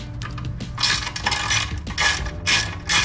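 A hand ratchet loosens the skid plate on a Husqvarna Svartpilen motorcycle, giving close, rapid bursts of metallic clicking in several short runs with brief pauses between them.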